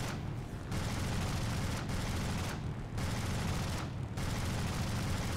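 Rapid 20 mm cannon fire from an aircraft in War Thunder pours out in long, dense bursts broken by three brief pauses. The roar is steady, loud and close, with no talk.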